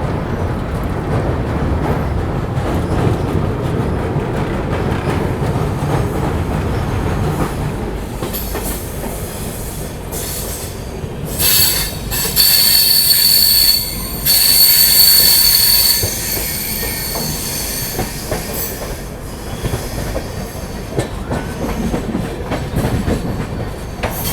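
The Kanpur Shatabdi express runs toward New Delhi with a steady, loud rumble of rolling wheels on rails, broken by a piercing high squeal of the wheels for a few seconds near the middle, alongside faint rhythmic clicking.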